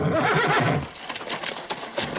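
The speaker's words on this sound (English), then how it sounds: "He's my horse, Jim." A horse whinnies loudly and close for under a second, followed by softer snorts and shuffling noises from the animal.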